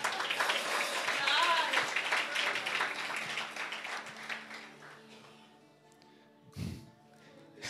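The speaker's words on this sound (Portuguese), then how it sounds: "Salva de palmas para o Ale aí" Church congregation applauding for Ale, a lively burst of group clapping that fades over the first few seconds into quieter room sound, with a voice and a short bump later on.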